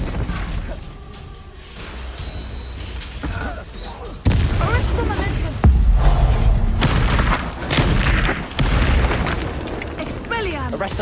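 Spell explosions and magical blasts from Hogwarts Legacy go off in a loud, busy game battle, with sudden booming bursts and crackling impacts layered over shouted spell incantations.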